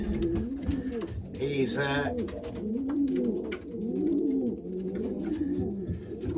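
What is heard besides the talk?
racing pigeons cooing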